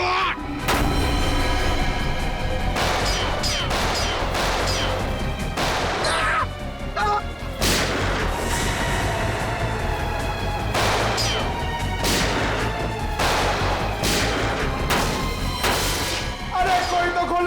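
Gunfire in a Hindi crime drama office scene, a series of sharp, loud shots spaced irregularly across the clip, with voices shouting between and under them.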